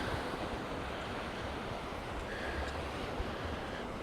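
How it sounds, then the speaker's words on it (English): Waves break continuously on the shore at Camp de Mar, Mallorca, a steady close wash of surf mixed with wind buffeting the microphone. "I'd rather have the sound of the waves than the sound of the music."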